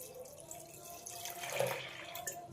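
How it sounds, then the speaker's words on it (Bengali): Water poured from a tap or jug into a pot of soaked lentils and kidney beans for dal fry, a steady close splashing flow that swells toward the middle and continues throughout. "এবার এতে দিয়ে দেবো জল।"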